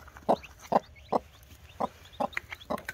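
A mother hen of the giant Índio breed clucks near freshly hatched chicks, giving short, sharp, closely repeated clucks at an irregular pace with faint chick peeps between, close and moderately loud.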